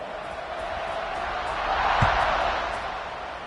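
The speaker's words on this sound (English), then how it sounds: "this crowd is buzzing after that last score" A stadium crowd buzzes after a score at a Clemson vs Duke college football game, a dense, steady roar that swells briefly mid-clip, with a commentator talking over it.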